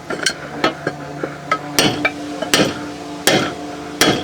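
A homemade metal tube tool is tapped to press a part into a stern drive while renovating a Princess 286 Riviera boat. About nine sharp, ringing metallic knocks come close and clear in an uneven rhythm, some light and some harder.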